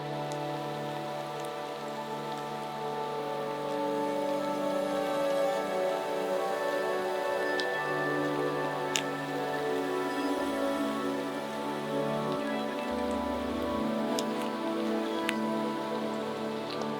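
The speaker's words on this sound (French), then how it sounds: "ça fait maintenant un bon bout de temps qu'il pleut" Steady rain falls outdoors, a continuous even patter with occasional sharper drips standing out, filling the whole stretch without any voice.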